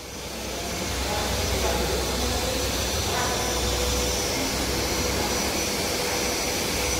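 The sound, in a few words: engine of a Mini 280 car running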